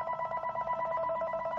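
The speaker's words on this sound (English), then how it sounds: "so the phone starts ringing." A landline telephone in a home room rings steadily with a warbling electronic tone, the repeated pulses filling the whole moment with no one speaking.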